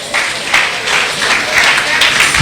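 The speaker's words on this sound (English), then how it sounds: "Clap your hands for the Lord." Church congregation clapping their hands together during a fiery sermon, a dense steady patter of many palms at moderate volume lasting a couple of seconds, with no spoken words over it.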